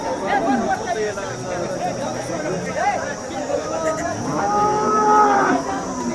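Cows moo in long drawn-out calls at a cattle market in Maharashtra, several animals overlapping, amid crowd chatter and general market noise.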